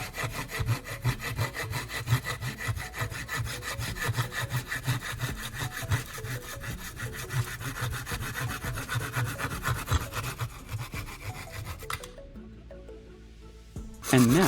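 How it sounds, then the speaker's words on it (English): Hand saw cutting a diagonal groove into a wooden block, with steady rhythmic back-and-forth strokes close by for about twelve seconds, then stopping and leaving a quieter pause. "I'm carefully cutting along the first diagonal line."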